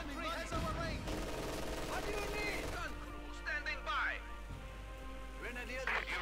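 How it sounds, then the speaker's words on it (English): Rifle grenades burst amid continuous battle noise in the strategy game Company of Heroes 2, with several dull thumps and crackling gunfire layered over a dense, busy game soundscape. "rifle grenades going off"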